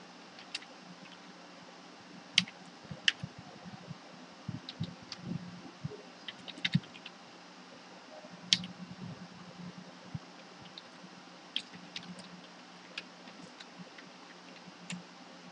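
Sparse, irregular keystrokes on a computer keyboard, entering a URL during a PHP and jQuery Ajax coding session, tapping lightly over a steady low fan hum.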